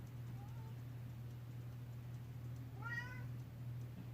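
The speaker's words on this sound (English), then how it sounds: "I can hear my cat." A cat meows once faintly, then again a bit louder, over a steady low hum.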